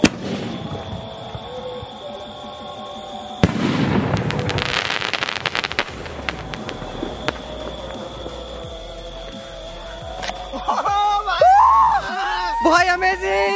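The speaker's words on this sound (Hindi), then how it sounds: "तो गाइस अब बारी है मर्करी के थोर वाले स्काई शॉट की। देख सकते हो आप कितना बड़ा साइज है यार इस सेल का, जलाते हैं इसको" Mercury Thor sky shot firework cracker lit and fired during Diwali testing, bursting in a loud crackling run of reports after the fuse, with someone talking throughout and whistling sparks near the end.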